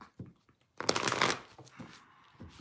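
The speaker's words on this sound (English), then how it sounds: "So that was a rough shuffle" A deck of cards is shuffled during a tarot-style card reading, giving one loud riffling burst of rapid flutter followed by a few softer taps and shuffles, close to the microphone with no talking.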